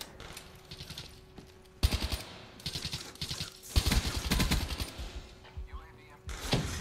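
Gunfire in the Black Ops 3 multiplayer shooter comes as rapid automatic bursts, sharp and close, in several clusters separated by brief quieter gaps.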